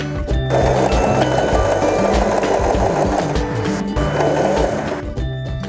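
A Janome 3016 sewing machine stitching a hem, loud and close, running in a steady mechanical whir with a brief pause near the middle and stopping toward the end.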